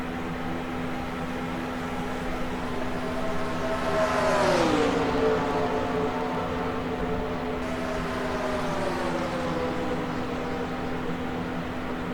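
Stock cars racing flat out at Michigan during a 2006 Grand National Series race near the finish, heard as a steady, distant engine roar and drone with one car's pitch sweeping down as it passes, continuous and unbroken.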